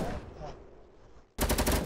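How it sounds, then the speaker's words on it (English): Video-game gunfire in Fortnite: a faint rattle, then a sudden loud burst of rapid automatic shots cutting in near the end. "What are you shooting at?"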